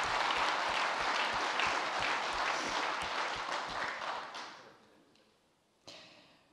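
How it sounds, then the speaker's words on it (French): Audience applause at a conference, a room of people clapping steadily with a few sharper near claps, fading out over the last seconds before a lone thump and quiet room tone. "Je vous demande de les applaudir."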